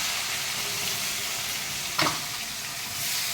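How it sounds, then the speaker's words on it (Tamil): Sliced onions sauté in hot oil for a vada curry, a steady close sizzle with one brief scrape of stirring partway through and no voices. "இப்போ இதை வதக்கணும்"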